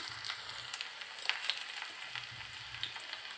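Sliced shallots fry in hot oil with mustard seeds, a steady close sizzle with small scattered pops and crackles and a faint low background hum.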